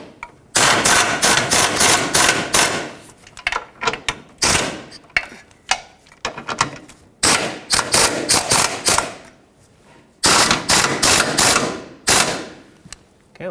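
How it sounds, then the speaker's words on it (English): Receiver hitch bolts on a 2013-2020 Nissan Pathfinder being run down with a loud impact or ratchet tool, several sharp rattling bursts separated by short pauses. "I'm just going to tighten them all up."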